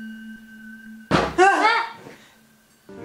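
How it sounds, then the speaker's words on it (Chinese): A door slams shut with one sudden, loud thud. A voice cries out right after it, over a faint steady electronic tone. "门突然砰一声"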